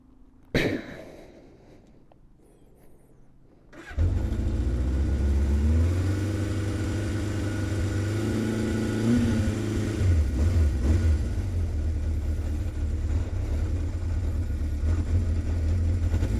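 A 1978 Honda CB750F motorcycle engine starts after a brief click and settles into a steady, loud, close idle with a low rumbling burble that holds for the rest of the clip.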